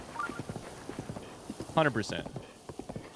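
Horse hooves clip-clop at a steady walking pace in Zelda: Breath of the Wild, close and moderately loud, with a person talking over much of it.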